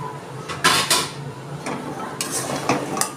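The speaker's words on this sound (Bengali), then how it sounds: "এবার আমি চিনি শিরার মধ্যে দিয়ে দিচ্ছি।" Fried gaja pastries being stirred into thick sugar syrup in a pan, a few clattering knocks and scrapes of a utensil against metal over a soft low bubbling, close and unaccompanied by speech.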